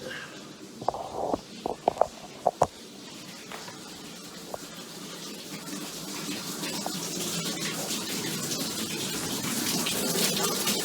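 Water gushing out of a shower as a lodge's water system is flushed; a few sharp knocks come first, then a broad rushing spray builds and grows steadily louder until the end.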